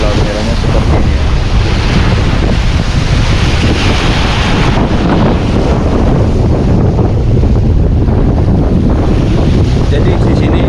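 Rough surf of the Red Sea pounding the shore, a loud continuous roar of breaking waves mixed with heavy wind buffeting the microphone throughout.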